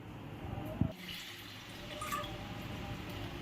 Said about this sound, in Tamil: Wash the flowers thoroughly and keep it aside.